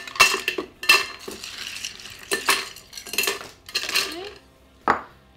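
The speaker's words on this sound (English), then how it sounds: "We're gonna add some ice to the shaker." Ice tumbles into a cocktail shaker in sharp clattering bursts, several distinct rattling clinks spread over a few seconds, with a final bright knock near the end.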